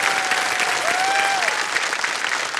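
Steady, dense applause from a large studio audience on the game show Kaun Banega Crorepati, loud and continuous throughout, with a faint whistle-like tone gliding through the middle.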